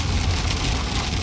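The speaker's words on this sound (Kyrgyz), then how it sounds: "Жамгыр жаман төгүп атат, караңла." Heavy rain pours steadily onto a road, a dense, continuous roar of close, loud hiss with no break and no voices over it.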